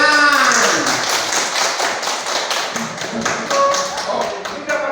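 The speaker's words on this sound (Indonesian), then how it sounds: "Tepuk tangan." A group claps hands in a quick, uneven patter, close and loud, with a few voices mixed in.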